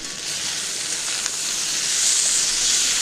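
Ground cumin, coriander and a little chili powder sizzle steadily while frying in a pot for a Bengali mixed vegetable curry, a continuous close hiss with no talking.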